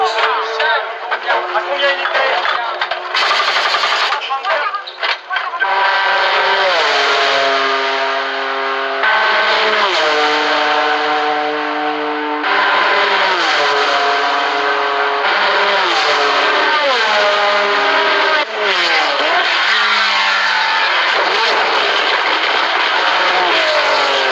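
Race cars at the 1975 24 Hours of Le Mans, including a Porsche Carrera, loud engines roaring past close by with rising and falling pitch as they accelerate and shift gears, continuous and dense throughout.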